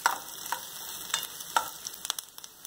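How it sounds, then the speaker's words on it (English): Fresh thyme leaves, stripped from the stem, sauté in a pan for a Jamaican beef patty filling, giving a soft steady sizzle with a series of small sharp clicks and taps from stirring, close and fairly quiet. "we just saute these for a short while"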